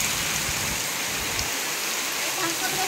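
Steady rain hisses and patters close by during the monsoon month of Shravan. The wash is dense and even throughout, with a few low thuds underneath and no clear speech.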